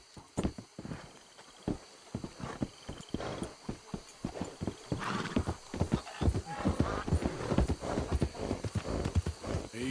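Horse hooves clip-clopping at a walking pace in the video game Red Dead Redemption 2, a steady run of distinct thuds up close, with low background noise throughout.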